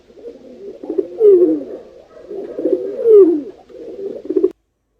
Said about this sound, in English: And the sound of the pigeon is